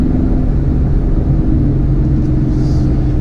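A car fitted with a JLT cold air intake and tune, driving with a steady loud low engine rumble and road drone from inside the cabin, no talking.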